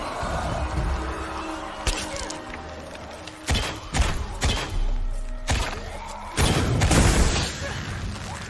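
Explosions in the video game Shadow of the Tomb Raider, a string of heavy booming thuds and crashing bursts, the loudest and longest near the end, over a steady rumbling game background.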